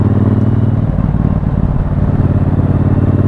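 A Triumph Bobber 1200cc engine pulling steadily through a roundabout, a loud continuous low rumble heard close up from the rider's seat with wind around it.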